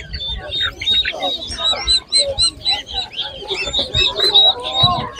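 Chickens at a livestock market in western Ukraine, close and clear, with repeated short clucks and squawks in an irregular rhythm and people talking in the background.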